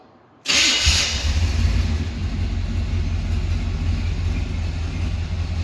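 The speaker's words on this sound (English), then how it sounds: "give her the old first start with the neighbor-friendly exhaust" After a brief quiet moment, a 1979 Camaro Z28 V8 engine fires up with a burst, then settles into a deep, steady exhaust rumble through a quiet exhaust that continues loud and close.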